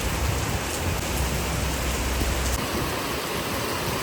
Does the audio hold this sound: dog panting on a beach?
no